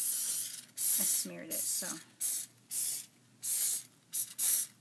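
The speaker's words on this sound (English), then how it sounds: "I'm being very generous with the hairspray." A can of hairspray hisses in about seven short bursts, each a sharp spray lasting under a second, close to the microphone, with brief talk near the start.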